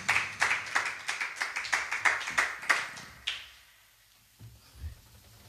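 Church congregation clapping in praise of the Lord, a run of about a dozen sharp, evenly spaced claps that stop abruptly, followed by near-silence with a faint low thump.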